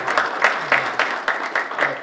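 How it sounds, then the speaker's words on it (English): Applause at a meet-and-greet for a congressional candidate, a short burst of clapping with distinct rhythmic beats from nearby hands. "just give another round of applause"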